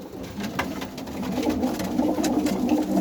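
Tumbler pigeons cooing steadily close by, a low throaty warble repeating over soft background noise, with a few faint clicks.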